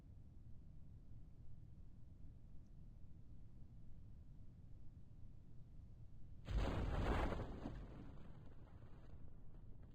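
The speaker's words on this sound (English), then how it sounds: "Explosions." Explosions in the Kerbal Space Program video game: after a stretch of low hum, one loud, noisy burst hits and fades over about a second, then the hum returns.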